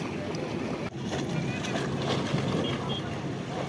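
Sea waves surging in at high tide along the shore near Somnath, Gujarat, a steady close roar of rushing water mixed with wind buffeting the microphone, with voices talking over it.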